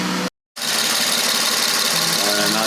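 A rebuilt Infiniti Q50 twin-turbo engine idles at its first start inside a shop with the door open, a steady, close, continuous rumble after a brief silent gap.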